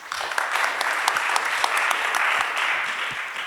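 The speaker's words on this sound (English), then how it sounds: "Can you have a round of applause for Anne-Marie, please?" Conference audience applauding a speaker at a digital health reform event, a steady wash of many hands clapping with a few sharper individual claps standing out, moderately loud and continuous throughout.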